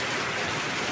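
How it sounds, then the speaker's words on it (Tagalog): Heavy rain in a storm, a dense continuous hiss of falling water, steady and loud throughout with no pauses. "Walang hinto yung ulan, grabe."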